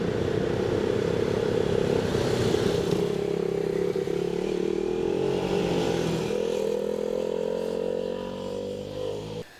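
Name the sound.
KTM RC390 single-cylinder motorcycle engine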